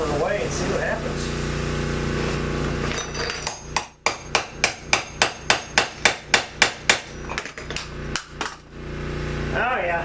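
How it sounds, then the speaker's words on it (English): A rapid series of sharp metallic hammer strikes, about a dozen in steady rhythm, preceded by a brief voice and a mechanical hum. "So we'll keep hammering away and see what happens."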